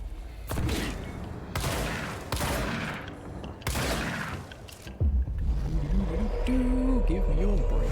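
Shotgun blasts in the video game Control, a few loud booming shots spaced about a second apart with decaying tails, followed by rumbling scrapes and a voice talking over the action.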